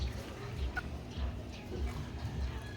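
A live chicken gives soft, repeated clucks at close range, with faint background voices and rustling around it.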